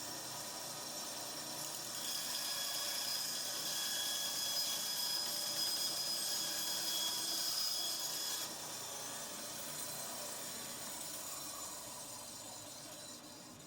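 A garage-sale band saw cuts through wood after a set-screw adjustment, giving a steady rasping, hissing blade noise for about six seconds at fairly close range. It then eases off into a quieter running hum with no talk.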